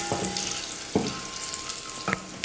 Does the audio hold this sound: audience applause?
no